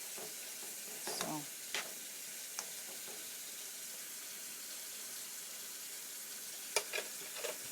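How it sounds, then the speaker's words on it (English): Shrimp and beef stir fry sizzle steadily in a pan over medium-low heat, a constant soft hiss punctuated by a few sharp clinks and scrapes of stirring, close and fairly quiet with no speech. "the stir fry is still a work in progress"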